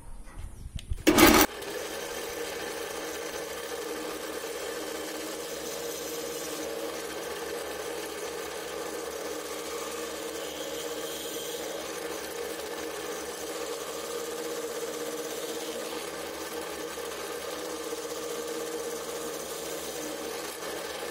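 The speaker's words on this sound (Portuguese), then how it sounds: "não descer muito rápido a furadeira, também ajuda na precisão" An electric drill boring holes in wood while building a chair runs in a steady, even whine after a brief sharp knock at the start, continuing close and constant with no speech.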